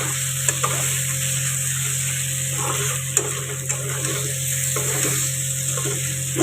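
Spices with Kashmiri chilli powder stir-frying in a pan, a steady close sizzle broken by repeated scrapes and knocks of the spoon against the pan, with no talk.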